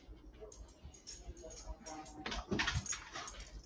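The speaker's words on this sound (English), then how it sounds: "My little dog, he's wanting to aggravate me." A small pet dog whines and whimpers in thin, faint cries, with someone speaking intermittently over the top and some rustling movement nearby.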